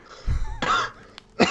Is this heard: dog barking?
no